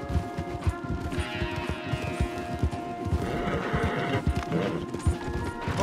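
Horse hooves clip-clopping at a steady canter through trees in the Red Dead Redemption 2 video game, a rapid, continuous patter of close thuds with faint background game sounds and no talking.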